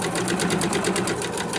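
Rapid, evenly pulsing stitches of a sewing machine joining fabric scraps run close and steady throughout the short stretch.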